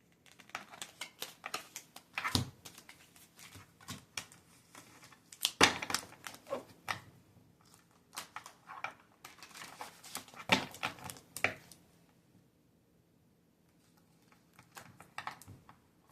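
Tarot cards are shuffled and cut by hand, producing quiet, uneven bursts of papery flicks and riffles, with brief pauses and a short silent stretch near the end.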